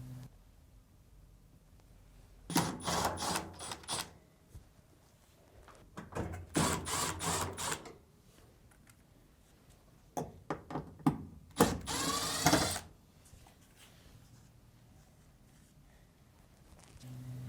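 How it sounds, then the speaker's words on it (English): Screws being backed out of the lint duct on a Samsung dryer, heard as three separate bursts of close, whirring power-driver noise with quiet pauses between them and no talking. "Then, remove the 3 screws on the lint duct"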